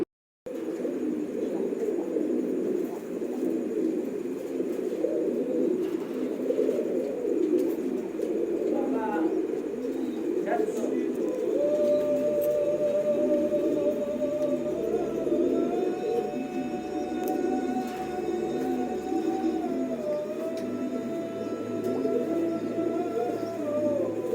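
A-grade fancy pigeons, white-spotted and black birds offered at a wholesale sale, coo in a continuous, throbbing chorus, with a thin steady whistle-like tone joining partway through.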